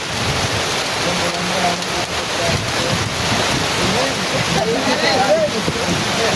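Steady broadband rain hiss fills the whole stretch, dense and close, with scattered louder patters and faint voices in the background.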